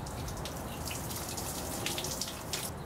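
Water gushes steadily out of the radiator of a 1995 Chevy truck with a V8 350 during a cooling system flush, a continuous splashing flow with occasional spattering bursts, heard close and alone.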